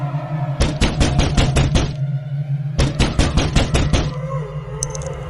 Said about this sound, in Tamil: என்ன கதவு தட்டுற சத்தம் கேக்குது?